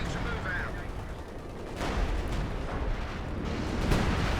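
Artillery barrage in Company of Heroes 2 on the 4v4 Nordwind map, a dense, continuous roar of booms and bursts with a few sharper blasts, heard at a distance.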